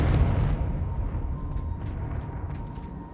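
In the Hogwarts Legacy video game, the Confringo curse sets off an explosion, a heavy low boom that roars loudly at first and then slowly fades, with faint crackles scattered through the decay and no talking.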